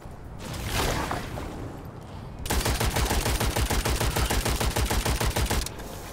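Gunfire in the video game Witchfire: a softer burst of shots gives way to a loud, rapid, evenly spaced run of close-range firing that lasts several seconds, then cuts off abruptly.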